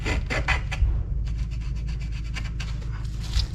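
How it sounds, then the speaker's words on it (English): Old varnish scraped off wooden boat windows on a bench, a close series of rough rasping strokes, a few quick ones then a longer run of regular scrapes. "it's a lot easier to scrape off the varnish off the windows here than it will be in place"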